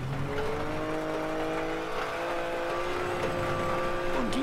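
A front-wheel-drive rally car in WRC 10 holds a steady, sustained engine whine with shifting pitch, heard close and alone as it drives a rally stage.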